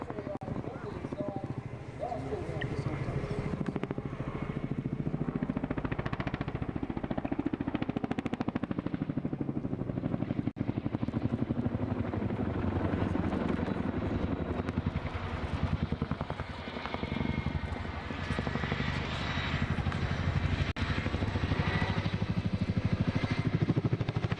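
A helicopter performs a roller-coaster manoeuvre at an air show, its rotor chop thudding steadily and loudly throughout, while a commentator talks over the public address.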